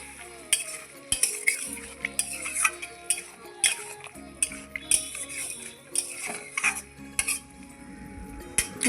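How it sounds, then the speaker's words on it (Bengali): A utensil stirs spinach and bori curry in a pan, scraping and clinking against the metal in irregular strokes, close and moderately loud, with a soft cooking hiss underneath. "আবারও ভালোভাবে নেড়ে চেড়ে নিচ্ছি এই"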